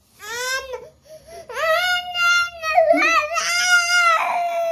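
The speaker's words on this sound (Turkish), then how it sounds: "Ağlıyor arkadaşlar." Young child crying loudly up close, long wailing sobs with rising and falling pitch and brief breaks for breath, with no other voice over it.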